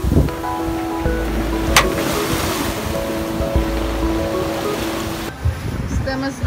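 A sailboat underway on the Caribbean Sea, with steady rushing waves and water along the hull, plus constant wind buffeting the microphone.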